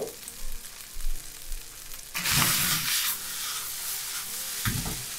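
Fried rice made with a convenience-store seasoning pack is stirred in a pan. Quiet scraping gives way to a loud, steady close-up sizzle, with a fresh burst of frying near the end.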